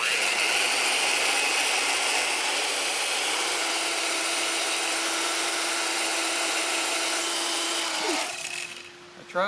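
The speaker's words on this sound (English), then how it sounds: "Now I'm going to reverse the drill motor and do this area" A power drill with a sanding attachment, running in reverse, whirs steadily with a harsh abrasive hiss against a Yamaha RZ350 motorcycle windscreen, then winds down near the end.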